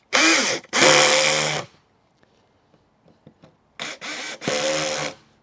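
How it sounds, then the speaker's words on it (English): A power driver sinks 1¼ inch lathe screws down into a wood block, with loud, close whirring bursts: two near the start, a quiet gap with faint clicks, then three more bursts at the end. "These are 1¼ inch lathe screws, and I'm going to drive them through down into the block."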